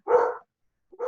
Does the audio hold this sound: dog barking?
yes